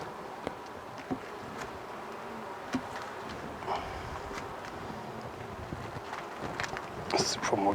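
Honey bees buzz around an open hive while a frame is returned, a steady insect drone with brief louder passes close to the microphone, under light handling noise and no speech.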